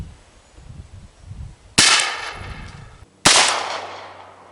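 Two loud, sharp rifle shots about one and a half seconds apart, each with a ringing decay, fired close by while sighting in a brand new scope at a 10-yard range, with a low murmur in between.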